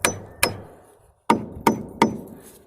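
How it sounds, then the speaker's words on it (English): A hammer knocks on a wooden roof truss in St Mary's: five sharp, hard taps in quick irregular succession, each ringing briefly, with no talk. "Would you like to give that a touch with the hammer"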